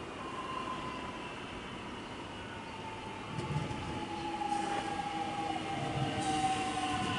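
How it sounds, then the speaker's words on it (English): A Melbourne Lilydale line train pulls into Laburnum station, a steady rumble of wheels on rail growing slightly louder, with a faint squealing tone from the wheels. "we've got a Lilydale service arriving now"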